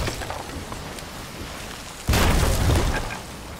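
A cannon shot in the pirate game Sea of Thieves lands partway through as a sudden heavy boom, rising out of a steady noisy background and leaving a sustained rushing roar that slowly fades.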